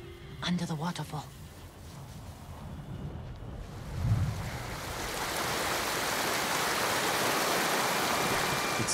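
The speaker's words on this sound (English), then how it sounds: "Under the waterfall." Rushing water beneath a waterfall in Ghost of Tsushima, building from a distant hiss into a loud, steady roar that fills the second half, with a short voice early on.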